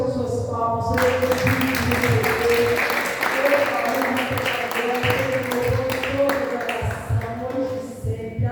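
Church congregation clapping in praise during a worship service, steady rhythmic claps running under a voice and music with a held tone throughout.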